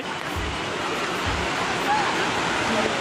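Strong flood water rushing in Odisha, a loud, continuous broadband roar of churning water with no pause, close and dense across the whole stretch.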